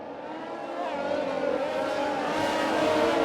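Race cars in a sim racing game at the Vietnam Grand Prix drone with steady engine roar, rising slightly in pitch and loudness as they accelerate, with no talking.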